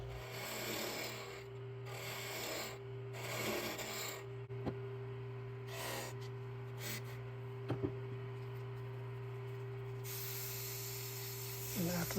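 A hand rasp shapes a wooden wand in a run of rhythmic scraping strokes, fairly faint over a steady electrical hum, with a few small knocks toward the end.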